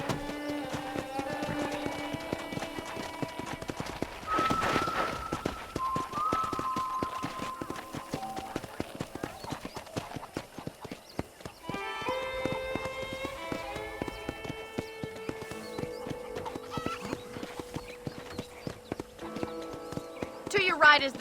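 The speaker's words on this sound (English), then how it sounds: "let's see if you can still ride a horse" Horse hooves clip-clop in a steady galloping rhythm across a ranch in Red Dead Redemption, running under background music and game dialogue for the whole stretch.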